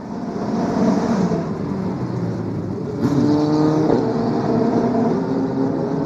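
FIA F3 Asian Championship race cars lapping Sepang circuit during warm-up laps, a loud sustained engine roar with rising and falling pitch as cars pass close by, no talk over it.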